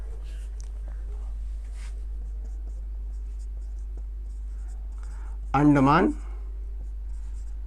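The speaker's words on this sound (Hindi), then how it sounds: "सबसे पहला लिखेंगे" Pen or chalk scratches across a board or paper in soft, intermittent strokes during a geography lesson. Someone speaks briefly near the end.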